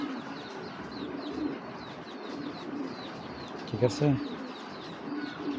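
Racer pigeons coo in a soft, repeated rhythm close by in a loft, with a brief burst of speech and a short scuffle partway through.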